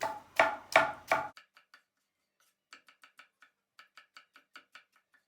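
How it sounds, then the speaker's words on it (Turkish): Peppers are chopped on a board for the tomato sauce of şakşuka. A few loud knife thuds are followed by a quicker run of lighter, crisp taps, close and alone. "Biberlerimizi doğruyoruz. Biberlerimiz ufak olacak, çok büyük olmayacak."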